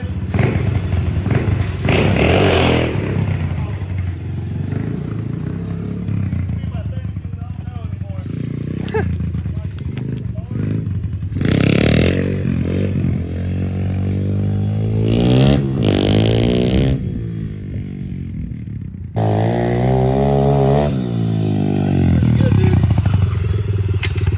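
An Extreme 110 pit bike dirt bike engine runs steadily throughout, its revs rising and falling with occasional thumps and clatter, fairly close, while people talk over it.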